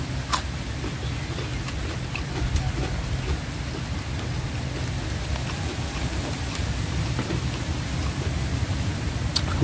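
Steady outdoor rain falls over open rice fields, a dense, even hiss with scattered sharper drops and a low rumbling bed underneath, with no voices.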